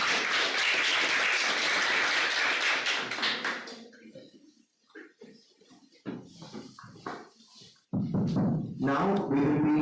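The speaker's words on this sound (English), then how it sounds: "Let's give a big round of applause." A hall audience at a Model United Nations event in Punjab gives dense, loud applause for dignitaries for about four seconds, then thins to scattered claps and murmurs before another burst of clapping with voices.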